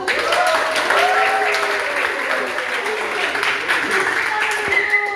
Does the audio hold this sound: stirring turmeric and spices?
no